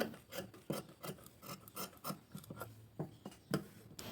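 Scissors cut blouse fabric in a steady series of short rasping snips, roughly two per second, close and quiet, with no talking.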